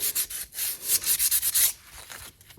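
Sandpaper roughs up a plastic shifter bezel from a Jeep JK, close and loud, in quick bursts of scratchy back-and-forth rubbing strokes that taper off into softer, slower scuffs.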